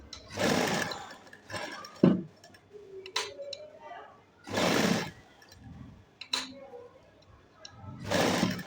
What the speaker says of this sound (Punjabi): ਇਹਦੀ ਸ਼ੇਪ ਹੈਗੀ ਆ ਲੈਸ ਦੀ ਉਹਦੇ ਉੱਪਰ ਉੱਪਰ ਹੀ ਸਟਿਚਿੰਗ ਕਰਨੀ ਹੈਗੀ ਆ